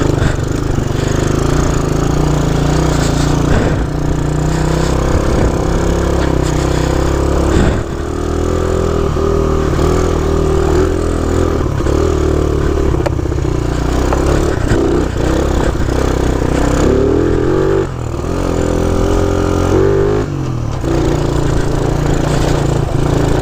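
A Honda C90 motorcycle ridden to the shops, its small engine buzzing steadily and loudly up close, with wind noise and brief dips in pitch as it changes speed.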